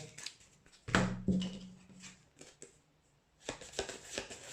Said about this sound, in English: to shuffle his side scheme deck